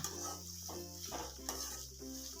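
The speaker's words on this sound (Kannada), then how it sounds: "ಈಗ ಈರುಳ್ಳಿನ ಚೆನ್ನಾಗಿ ನಾವು ಫ್ರೈ ಮಾಡ್ಕೊಳ್ಬೇಕಾಗತ್ತೆ ಎಣ್ಣೆಯಲ್ಲಿ" Finely chopped onions frying in oil for mango rice, a faint sizzle broken by a few soft stirring scrapes, with a low steady hum in the background.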